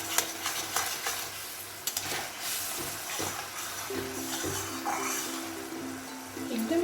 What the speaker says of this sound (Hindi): एकदम इसको अच्छे से स्टीयर करना है